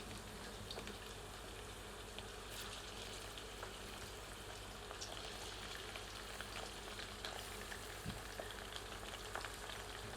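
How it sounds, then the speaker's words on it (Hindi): Mutton and garlic sizzle and crackle steadily in a hot pan, a continuous close frying hiss with occasional small pops. "सबको मिलाकर अच्छी तरह इसको भूनते हैं, लेकिन हम इसे तीव्र आंच पर नहीं भूनेंगे"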